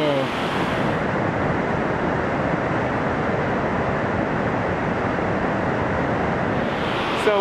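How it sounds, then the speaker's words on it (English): Waterfall at Twin Falls in Olallie State Park heard from the top of the falls, a steady, loud broadband roar of rushing water with a brief voice at the start and end. "so we're at the top of the falls"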